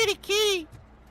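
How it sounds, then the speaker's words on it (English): A cat meows in the RoboCop: Rogue City video game, two drawn-out, rising-and-falling mews close by, the second longer and louder, followed by quiet background. "Oh, I hear a kitty."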